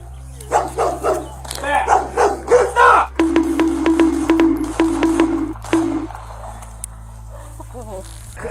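Dogs barking loudly in an alley after an attack, a rapid run of close, harsh barks and yips followed by a steady high whine, with people's voices mixed in.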